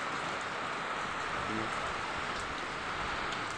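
Rain falling outdoors at a party venue, a steady soft hiss of drops on surfaces, even and continuous throughout.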